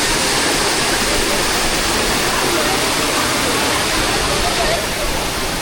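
Maruti waterfall at Chondhe near Shahapur roars in a loud, unbroken wash of falling water that fills everything, close and constant for the whole stretch.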